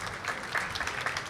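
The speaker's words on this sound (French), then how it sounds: "Je vous demande de l'applaudir" A live audience at a radio fair applauds a young radio journalist candidate during a talent final, with brief, moderately loud clapping heard alone.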